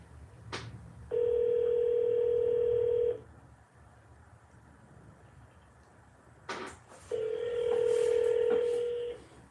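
A telephone rings out on a call that goes unanswered: two long electronic ring tones, each about two seconds, separated by a quiet gap, with faint clicks before each ring and a low background hum.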